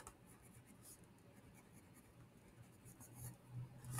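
A marker drawing monster eyes on a game board during a multiplication array game, giving faint, scratchy strokes over a steady low hum, quiet and close throughout.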